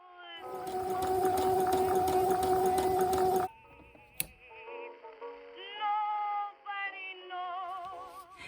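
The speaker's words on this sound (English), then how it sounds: "put right sides together, and I'm just going to sew right along the middle line" A sewing machine runs steadily for about three seconds, stitching fabric strips right sides together into one long tube, then stops; soft background music continues afterward.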